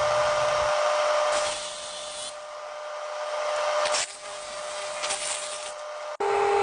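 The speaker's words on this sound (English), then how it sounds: "I'm using the Sawzall to cut out the cross member." Sawzall reciprocating saw cutting through a steel cross member on a Chevy truck frame during restoration, a steady loud buzzing whine that shifts in pitch and stops briefly near the end.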